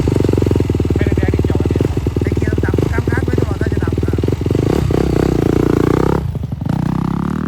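A Honda motorcycle engine running at a riding school in Nakhon Ratchasima, Thailand, a loud close steady putter with brief dips in revs, voices speaking over it.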